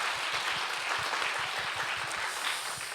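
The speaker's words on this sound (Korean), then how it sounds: "박수 한번 해주시겠습니까?" A church congregation applauding steadily during a Sunday worship service, many hands clapping together in a continuous wash of sound for the whole stretch.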